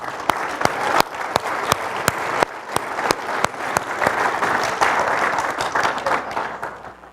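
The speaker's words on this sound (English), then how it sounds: "We applaud your efforts" Congregation applauding mothers in a church setting, a sustained wash of many hands clapping with several sharp, louder individual claps standing out near the front, steady then tapering slightly.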